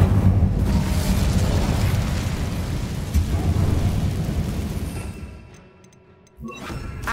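A fire spell is cast in the video game Hogwarts Legacy, giving a loud, roaring whoosh of flame that builds fast, rumbles for several seconds and then drops away to near quiet before a fresh burst.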